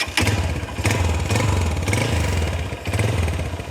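A Honda CB 150F motorcycle engine idles close by, a steady low throbbing rumble with a fine mechanical clatter that holds unbroken and loud throughout.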